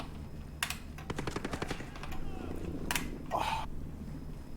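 Rapid automatic gunfire in the shooter Ghost Recon Breakpoint, a quick burst of closely spaced cracks followed by a couple of heavier isolated shots, moderately loud over a low game ambience.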